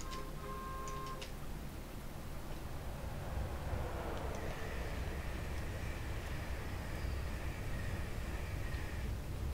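Default Kuju train running sounds in Train Simulator 2019, a steady rumbling rush of a train passing at speed with a faint clicking rhythm, a brief tonal whine early on and a sustained higher tone later.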